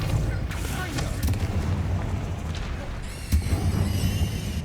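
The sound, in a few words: Depulso spell being cast in Hogwarts Legacy video game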